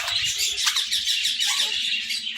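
A peacock at an animal care centre and zoo in Morbi, Gujarat, gives harsh, squawking calls that run continuously and fairly loud through the whole stretch, with a hissy, raspy edge.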